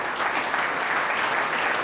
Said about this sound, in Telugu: వారందరికీ మనందరం పెద్ద క్లాప్స్ కొట్టాలి